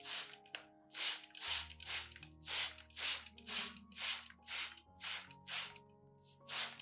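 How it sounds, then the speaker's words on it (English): Rapid repeated bursts of a spray bottle misting plant leaves, about a dozen quick hissing pumps in steady rhythm, close and fairly loud. "When spraying, be sure to mist both the upper and underside of the leaves"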